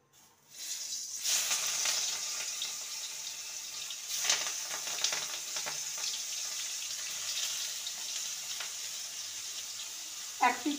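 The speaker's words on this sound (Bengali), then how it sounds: "এবার এগুলোকে আমি তেলে ভেজে নেব" Stuffed pointed gourd paturi parcels dropped into hot oil in a wok, sizzling loudly and steadily with bursts of crackle as pieces go in and a sharp clatter near the end.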